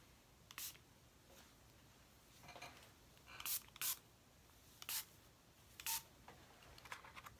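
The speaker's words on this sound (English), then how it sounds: "So I'm gonna spray this all over my hair." Several short hissing bursts of leave-in conditioner sprayed on hair, close up, spaced irregularly over a faint background with no talking.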